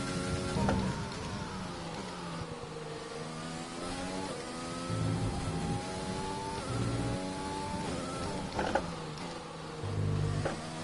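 Formula 1 car engine in the racing game F1 2020, a steady high-pitched whine rising and falling through gear changes, with no talking.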